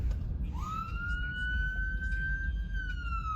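An ambulance siren wails on a street, one long rising tone that holds high, sounding fairly close over a low rumble of traffic, with no voices.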